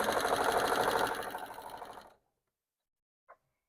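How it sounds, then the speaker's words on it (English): A sewing machine stitching fabric pieces for half square triangles runs in a steady, fast, close whir for about two seconds, then slows and stops, followed by a single faint click. "hold your hands on either side so you're guiding both sides of the fabric through the foot"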